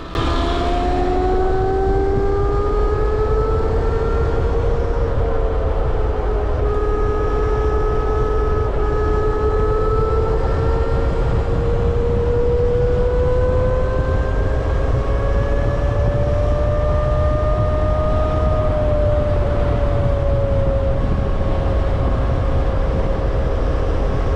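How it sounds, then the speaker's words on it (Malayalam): An Ola S1X electric scooter accelerating hard in sports mode, its steady motor whine rising slowly in pitch over a constant low rumble of road and wind noise throughout, with no talking. "ഇനി ഞാൻ മോഡ് നോർമലിൽ നിന്ന് സ്പോർട്സ് മോഡിലോട്ട് ആക്കിയിട്ട് നല്ല രീതിയിൽ ത്രോട്ടിൽ ചെയ്ത് കാണിച്ചു തരാം"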